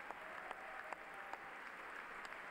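Faint, steady applause at the State of the Union fills the room, a dense wash of distant clapping with a few sharper claps standing out.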